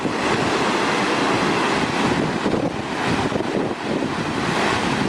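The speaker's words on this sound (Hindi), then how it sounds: "और ये उसके नीचे से नदी निकल रही है" A mountain river below a glacier near Gunji rushes with a strong current, making a constant, loud, broadband roar of churning water without pause.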